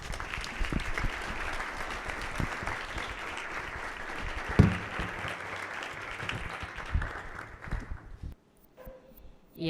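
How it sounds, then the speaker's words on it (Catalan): An audience at an arts presentation applauds warmly, a dense patter of clapping that thins out and fades near the end. "un fort aplaudiment"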